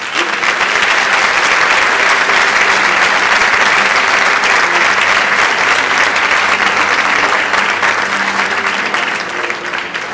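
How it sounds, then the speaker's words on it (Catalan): Loud, sustained applause from a large audience at a festival gala in Sueca, steady dense clapping filling the whole stretch as the mayor leaves the stage. "Despedim l'alcalde amb un fort aplaudiment."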